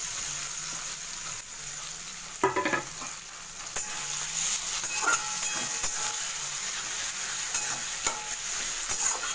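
Prawns hit hot mustard oil with fried tomato and onion in a wok, a loud sizzle bursting up, then steady crackling frying with scraping stir strokes and clinks throughout.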